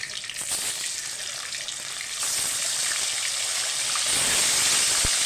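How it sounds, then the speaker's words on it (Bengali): Pieces of hilsa fish frying in oil give off a bright, hissing sizzle, close and steady, that swells slightly louder toward the end. "আমি এই সব ইলিশগুলোকে ভেজে তুলে নিচ্ছি।"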